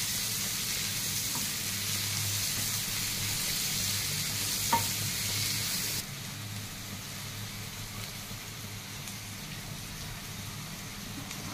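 Chopped onions fry in a pan for a palak paneer base, giving a steady, close hiss and sizzle with light stirring scrapes. The sound drops slightly in level partway through, and no one speaks.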